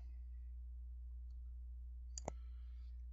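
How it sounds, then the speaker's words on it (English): A single crisp computer mouse click on a search button rings out over a steady low electrical hum in a quiet room. "I'll just type it in here and I'll click on the search button"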